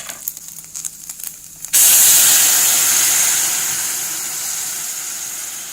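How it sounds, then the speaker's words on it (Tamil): Dissolved jaggery syrup poured into a hot pan while making sweet adai, bursting into a loud sudden hiss that slowly fades over several seconds, after quieter kitchen clatter. "இப்போ இது கூட நம்ம வந்து கரைச்சி வச்சுருக்க வெல்லத்தை ஊற்றிக்கலாம்."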